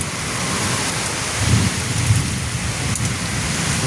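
Heavy night rain pours steadily while low thunder rumbles in the middle, loud and continuous with no voices.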